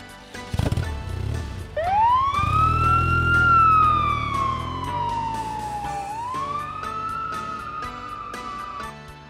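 A police patrol bike's siren wails loudly alone, rising into a long sweeping tone, sliding down, then climbing again in a steady up-and-down cycle.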